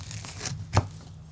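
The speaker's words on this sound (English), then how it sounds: "let's cut it in half, see what we got" A knife slices through a crispy smashburger crunch wrap, giving a brief crackling crunch that peaks sharply once near the middle over low background hum, with no talking.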